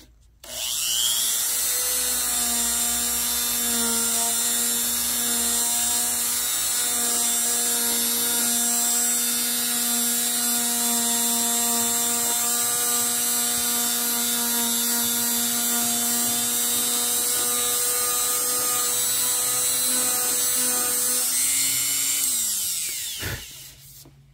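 A handheld rotary tool fitted with a Scotch-Brite pad polishes aluminum, giving a loud, steady high-pitched whine with abrasive rubbing that holds for about twenty seconds before spinning down and stopping.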